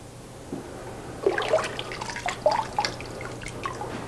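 A ceramic platter is dipped into a wide bucket of purple glaze, and the excess glaze drips and splatters back into the liquid in a scatter of close, irregular drops and trickles.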